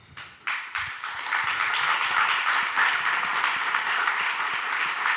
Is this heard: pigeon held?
no